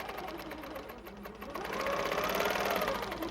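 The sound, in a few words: quilting machine stitching along a long ruler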